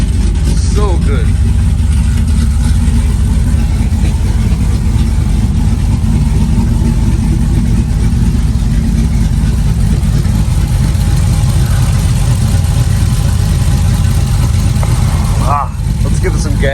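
A car engine fitted with BES Racing cylinder heads idles steadily just after start-up, a loud, continuous low rumble that holds close and even throughout, with a brief dip near the end.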